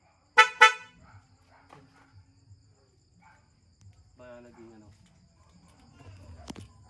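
Short honks from the stock horn of a Honda XRM110 motorcycle: a quick double beep up close, then a fainter toot later, over quiet night ambience with crickets and soft background noise.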